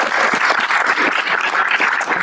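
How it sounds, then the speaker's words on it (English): An audience gives a speaker a burst of applause, dense overlapping claps close and fairly loud, sustained throughout without a pause. "Let's give him a big round of applause."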